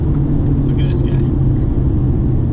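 Road traffic moving at about 50 mph streams past, a steady, loud broadband rumble of engines and tires that never lets up.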